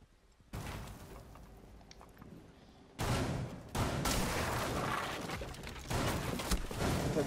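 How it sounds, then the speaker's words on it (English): A slug shotgun fires in the tactical shooter Rainbow Six Siege, with several sharp, heavy shots at uneven intervals over continuous in-game background noise. "That shotgun is stupid nasty."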